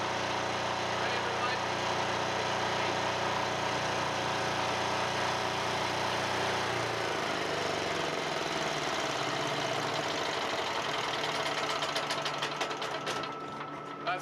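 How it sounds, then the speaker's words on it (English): A diesel-powered GDS 3000 generator runs close by with a loud, dense mechanical clatter and steady hum. The pitch lowers partway through, and it continues throughout. "This is a traditional generator. It's ran by diesel. This is a GDS 3000."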